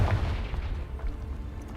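A Confringo fire spell blasting in Hogwarts Legacy: a dense, rumbling explosive burst that stays loud and boomy for nearly two seconds with heavy low-end roar.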